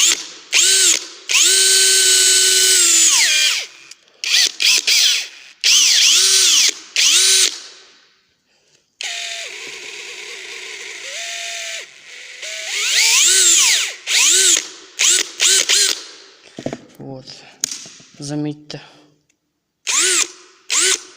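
Einhell TE-CD 18/50 cordless drill spinning up in repeated short bursts, each ramping quickly with a whine through its soft start, then cutting off; near and loud, with brief gaps and some clicking between runs.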